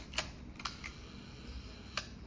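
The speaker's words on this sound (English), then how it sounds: "As long as I press the shutter opens, as you can see." A Canon Canonet 19 rangefinder camera fires its shutter at a one-second speed. Faint, crisp mechanical clicks come about a second apart against a quiet room hiss, with no talking.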